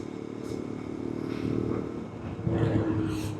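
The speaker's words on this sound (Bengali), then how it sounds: "বাইক চালাচ্ছি, বাইক চড়ছি।" A motorcycle is ridden on a long road trip from Tawang toward Guwahati, its engine a steady close drone mixed with road and wind noise, rising slightly toward the end, with no talking.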